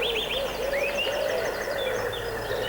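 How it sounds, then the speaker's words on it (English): Birds sing out in quiet countryside, repeated chirping and warbling phrases overlapping at moderate loudness over a soft outdoor background with no talk. "All you can hear are the birds singing."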